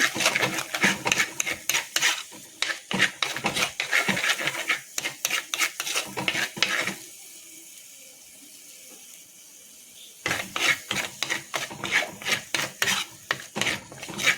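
A spoon scrapes and stirs chopped tomato and curry leaves in a cooking pan. The scraping runs in quick rhythmic bursts, pauses briefly, then starts again, close up and loud, with no talking.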